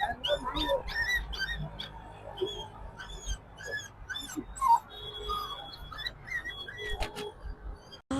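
A small puppy whimpers and yelps in short high cries scattered over a busy outdoor scene, with people talking throughout and faint bird calls in the background.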